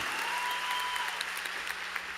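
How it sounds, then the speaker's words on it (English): A graduation crowd applauds the student section at a high school ceremony, a broad steady round of clapping that fills the hall, with a thin tone gliding briefly beneath and no clear speech. "Please give them a round of applause."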